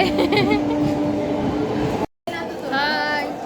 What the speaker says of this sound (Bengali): এই যে ট্রেন ছেড়ে দিয়েছে